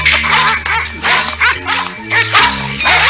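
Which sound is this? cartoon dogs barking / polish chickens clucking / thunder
cartoon dogs barking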